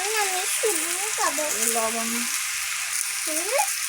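Fish roe sizzles in hot oil with drumstick leaves, a steady close frying hiss running throughout while a person speaks over it intermittently.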